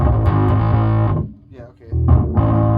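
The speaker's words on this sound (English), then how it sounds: "yes, it does work as a distortion pedal." A bass guitar plays thick, buzzing notes through a distortion pedal into a small amp, loud and close, with a brief drop in the middle and a short spoken remark.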